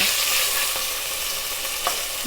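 Beef sears in a pot for stew, giving a dense, loud, continuous sizzle close by with only faint scrapes and pops rising out of it.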